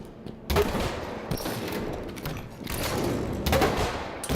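Grenade launcher fire and explosions in Halo 5 multiplayer, a run of loud booming blasts and thuds in quick succession with dense gunfire, no talking.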